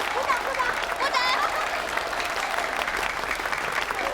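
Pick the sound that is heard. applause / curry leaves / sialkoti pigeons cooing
applause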